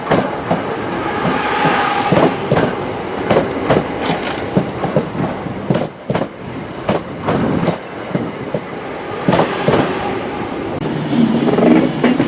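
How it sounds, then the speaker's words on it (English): A Class 323 train, unit 323 233, pulling into Manchester Piccadilly: a loud rhythmic clickety-clack of wheels over rail joints with rumbling carriages and hiss, close by, easing slightly toward the end. "Here comes 323 233 terminating here at Manchester Piccadilly."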